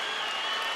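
A Las Vegas arena crowd of Mosley fans cheers and applauds at a boxing match against Vargas, a dense continuous roar with no break over the short span.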